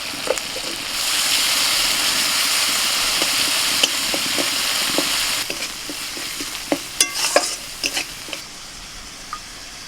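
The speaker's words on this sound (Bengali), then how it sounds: "মশলাটা একটু কষিয়ে নিয়ে পোস্ত আর 4 মগজ দানা বাটাটা দিয়ে দিচ্ছি" Spice paste fries in a pan with poppy seed and melon seed paste, sizzling steadily and loudly for several seconds before a few splashes of water are added. Then come clinks and scrapes of stirring as the hiss eases.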